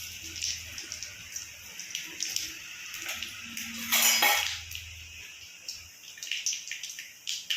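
Bowls and dishes clink and clatter in a home kitchen while whole spices such as cumin, bay leaf and cinnamon go into a pot, with a louder burst of clattering near the middle and water running faintly.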